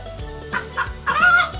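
A hen clucks several times in short bursts, ending in a drawn-out, rising cackle, close and clear with no talking.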